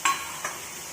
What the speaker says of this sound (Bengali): পেঁয়াজগুলো ভাজা ভাজা হয়ে গেছে, এবার মাংসগুলো দিয়ে দেবো।